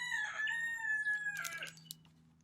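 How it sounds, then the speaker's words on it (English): Roosters crowing on a farm: one long, clear cock-a-doodle-doo followed by a second, rougher crow overlapping it, at moderate distance, with a faint short cluck at the end. "Our roosters are joining in."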